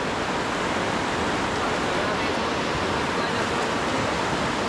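Rushing river water during a rafting trip, a loud, continuous broadband roar of churning rapids filling the whole moment without a break.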